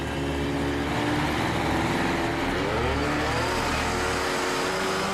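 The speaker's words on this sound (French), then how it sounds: "Cette fois, le moteur tourne parfaitement." MythBusters' jetpack engine runs on a second takeoff attempt at about 5600 rpm, a loud, sustained, dense roar that holds steady throughout, close and alone.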